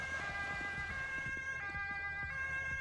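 An emergency vehicle siren from the Roblox game Emergency Emden wails in a steady, electronic tone over low rhythmic thumping, sustained and even throughout a short stretch.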